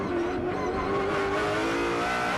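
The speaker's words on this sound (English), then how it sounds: "The BMW makes this great noise, turns through turn 14 flat, and then it's hard on the brakes, down through the gears" A BMW GT race car in a Blancpain Endurance race at Navarra, Spain, screams loud and close through a flat-out turn, its engine note holding steady then dropping as it brakes hard and downshifts.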